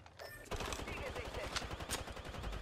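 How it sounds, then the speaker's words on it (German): Rapid gunfire in Apex Legends on the Olympus map, a close, dense burst of shots starting half a second in and continuing steadily, with some voice mixed in. "Sie schießen auf mich."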